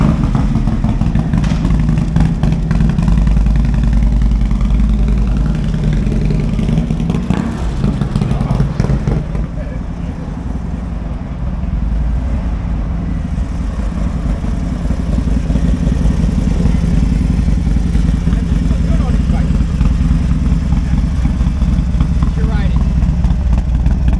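E85-tuned motorcycle engine on a dyno, a loud sustained roar held at high revs, briefly easing before climbing again, with voices under the noise.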